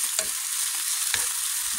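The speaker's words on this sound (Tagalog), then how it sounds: "Nilagyan ko siya ng ahos at atin siyang gisahin." Garlic sautés in hot olive oil in a pan, a steady close sizzle with a few soft stirring scrapes, no voices.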